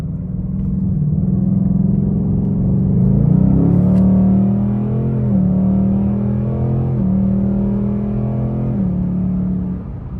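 A Ford Mustang 5.0 driven hard at night, its engine a loud, deep, continuous rumble with rising and falling revs, heard close from inside the car with no talking.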